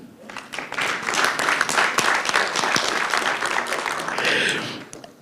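Conference audience breaks into steady applause, a broad crackle of many hands clapping for several seconds before stopping abruptly.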